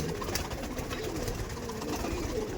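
Giribaj pigeons, high-flying birds kept at a home loft, cooing softly and continuously in a steady murmur amid low background noise, with no talk.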